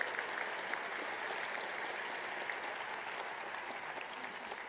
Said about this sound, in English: I'd appreciate it if you'd give them a round of applause